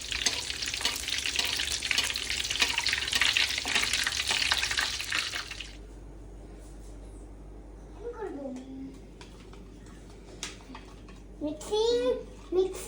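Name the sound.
corn dogs frying in oil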